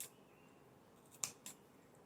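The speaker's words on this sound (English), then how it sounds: "you can just trim it with your regular scissor" Regular scissors trimming fabric for a sewing project, two quick, crisp snips close by against a very quiet background.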